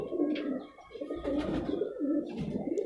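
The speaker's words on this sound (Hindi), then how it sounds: "ये कबूतर पीली आँखों में।" Rampuri pigeons with yellow eyes coo steadily in soft, low rolling phrases, the burbling calls repeating close by with no talking over them.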